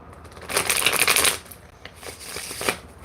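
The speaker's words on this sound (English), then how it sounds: "I'll pick a card for you, Tarun." Tarot cards being shuffled up close: a quick riffling flutter of card edges, then a softer second burst after a short pause, with no talking.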